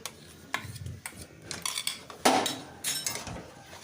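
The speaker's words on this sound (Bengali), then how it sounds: "এবার ভালো করে মিশিয়ে নিচ্ছি খুব সুন্দর করে মিশিয়ে নিয়েছি" Carrot paste being stirred into boiling milk in a pot, the spoon giving irregular scrapes and light clinks against the metal, close and moderately quiet.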